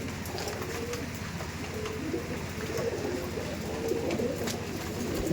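Soft, low cooing from Andhra pigeons in a pigeon sale pen repeats steadily through the whole stretch, with a faint background hiss and occasional light clicks.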